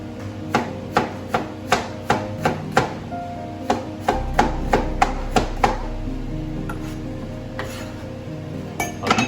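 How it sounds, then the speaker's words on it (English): A knife cuts jalapenos lengthwise on a cutting board, giving a run of sharp, evenly spaced chops. A low hum comes in partway through, and pots and utensils clink faintly nearby in a kitchen. "for the jalapenos, you want to cut them as long as you can get them"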